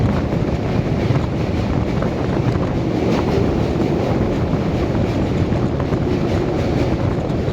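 A Sealdah to Rampurhat passenger train running, heard from inside as a loud, steady rumble and rattle with wind buffeting throughout.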